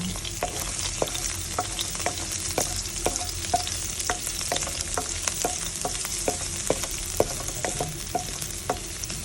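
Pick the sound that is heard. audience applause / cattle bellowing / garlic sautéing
garlic sautéing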